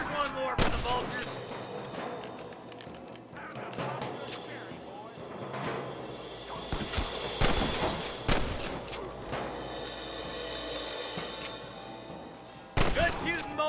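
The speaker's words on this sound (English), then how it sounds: "Good shooting, boy." Gunfire in the Western video game Red Dead Redemption: scattered loud shots and thuds crack across the scene, irregular and overlapping, with a final sharp blast near the end amid ambient game noise.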